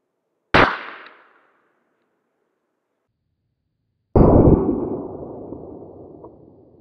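A Winchester Super X shotgun slug is fired at an aluminum plate. Two loud, sharp reports sound in near silence, the first short and crisp, the second a heavier blast with a long fading ring.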